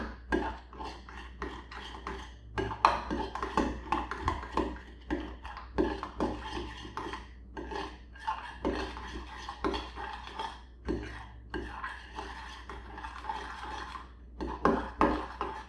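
Cloud dough with added food coloring is stirred with a utensil in a bowl, giving steady scraping and clinking strokes in a quick irregular rhythm, soft and close, with no talking.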